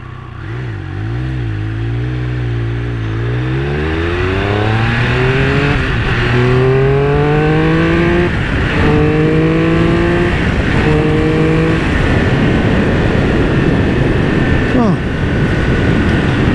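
A Triumph Speed Triple motorcycle engine revs loud and close, its pitch sweeping up and down through several rising surges as the bike accelerates and shifts, with wind rush between the pulls.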